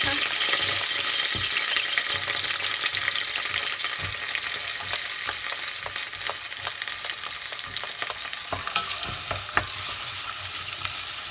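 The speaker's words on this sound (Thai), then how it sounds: "จะใส่กระเทียมลงไปก่อน เอาลงไปหมดเลย ใส่หอมลงไปเลย" Garlic and shallots sizzle in hot oil in a pan as the base for pumpkin soup, a loud, steady crackling hiss with occasional scraping stirs, close up and without speech.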